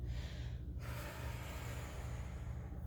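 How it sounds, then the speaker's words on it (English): A single deep breath taken while holding goddess pose in a gentle yoga class, a sharp, close intake of air followed by a long, breathy exhale over a low steady hum, no speech. "Take several breaths here on your own"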